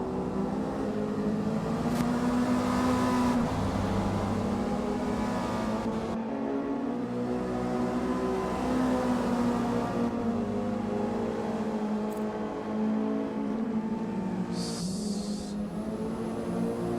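Mazda MX-5 race cars at the Mid-Ohio circuit give a sustained, loud engine drone whose pitch rises and falls as the cars accelerate and shift, with brief higher whines breaking through.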